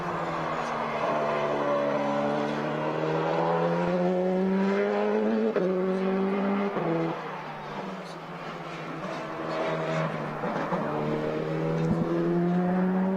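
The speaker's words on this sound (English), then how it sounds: "This is the one that everybody's been talking about, the real race car." A Porsche 919 race car at Rennsport Reunion VI drones loudly and continuously, its harmonic engine note sliding up and down in pitch with a brief dip midway as it runs past.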